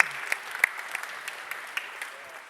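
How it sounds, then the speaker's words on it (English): Audience applause at a radio industry conference session, steady clapping with a few sharper claps, fairly close, with talk over it. "give her a clap"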